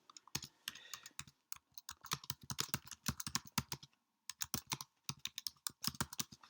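Rapid, uneven keystrokes on a computer keyboard as text is entered into a spreadsheet cell, close and crisp, with short pauses between bursts and no talking.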